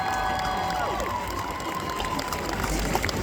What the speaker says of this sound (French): Donc on peut l'applaudir également pour ça